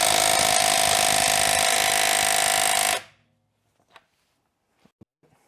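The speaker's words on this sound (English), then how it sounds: "And then take out the 4 19mm wheel bolts." A loud, steady rattling impact tool removes 19mm wheel bolts on a Renault Clio 1.2 16v. It hammers continuously for about three seconds, then stops abruptly, leaving a few faint clinks.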